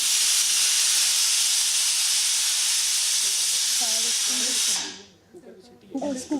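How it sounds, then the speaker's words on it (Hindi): A steady, loud hiss from a pressure cooker whistle holds for several seconds, then cuts off abruptly, after which a voice begins talking. "कुकर की सीटी।"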